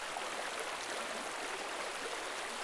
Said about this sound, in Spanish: el sonido de un río en el bosque tropical de Costa Rica